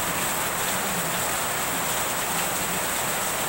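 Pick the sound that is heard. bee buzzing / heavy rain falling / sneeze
heavy rain falling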